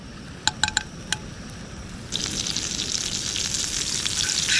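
Butter hitting a hot frying pan at a campsite creek-side cook, after a few sharp clinks, breaks into a steady bright sizzle that swells slightly and holds to the end, close and fairly loud.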